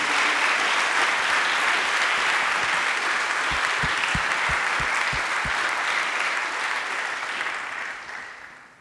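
A church congregation applauds in a steady, dense wash of clapping that holds for several seconds, then begins to fade toward the end, with a few low thumps in the middle.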